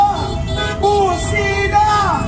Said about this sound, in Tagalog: bubusina kayo! Busina! Busina!